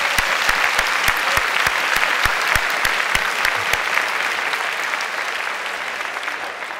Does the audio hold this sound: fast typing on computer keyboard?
no